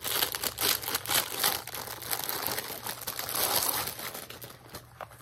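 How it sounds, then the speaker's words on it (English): A plastic package from an online haul is cut and pulled open by hand, giving dense, close crinkling and rustling throughout, loudest near the start and fading toward the end. "Let me cut this open and see what this is."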